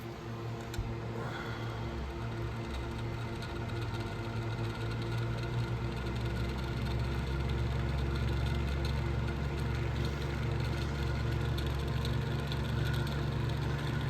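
A homemade 'Franken fan' window fan runs steadily during an airflow test, a continuous droning motor hum with broad rushing air, unchanging throughout.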